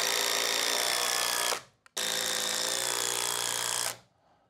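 A power drill backing screws out of roof joists, running in two loud sustained whirring bursts near the mic with a brief pause and click between them, then stopping.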